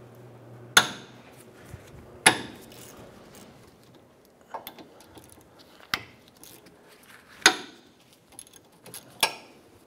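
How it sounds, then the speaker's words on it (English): A 12 mm socket and ratchet loosening the caliper slide pin bolts on the rear brakes of a 2009-2015 Honda Pilot, heard as a few sharp metallic clicks and clanks spaced over several seconds, close and otherwise quiet. "We're gonna use our 12 millimeter socket and ratchet. We're gonna loosen and remove our two slide pin bolts here"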